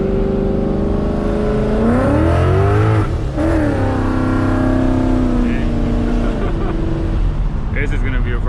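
A 2017 Mustang GT V8 with a Paxton supercharger makes a wide-open-throttle pull from second into third gear, loud and close. The engine climbs in pitch, drops briefly at the shift, then climbs again.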